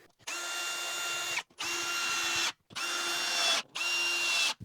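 A power drill drives screws into drywall in four close, loud bursts of steady whine, each lasting about a second, separated by brief pauses.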